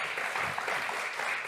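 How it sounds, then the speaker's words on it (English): Warm round of applause closing a panel at the European Data Summit conference, a dense steady wash of clapping from the seated audience, fairly soft and continuous through the whole moment. "Please a warm round of applause"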